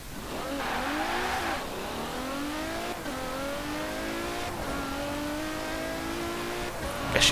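A 1987 Mercedes-Benz AMG Hammer Coupé, a V12 coupé in Forza Horizon 4, accelerates hard on an open road. The engine climbs loud and steady through repeated gear changes, with a brief sharp noise at the very end.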